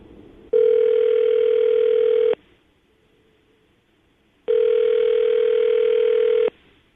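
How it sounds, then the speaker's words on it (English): A telephone call rings out in two long, steady electronic tones separated by a silent pause, clear and loud over a faint background. "we're going to call her right now, get her on the phone"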